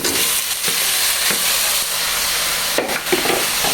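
Onion, garlic and tomato fry loudly in a pan as potatoes are tipped in, a steady close hiss and sizzle broken by a few scraping stirs and clatters.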